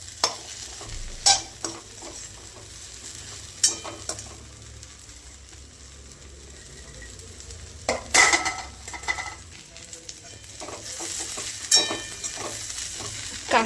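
Okra (bhindi) coated in masala being stirred in a frying pan, with a steady soft sizzle under intermittent scraping and clinks of the spatula against the pan, close and moderately quiet.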